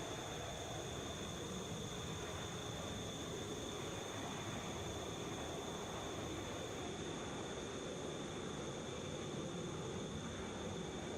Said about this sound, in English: Boeing 757.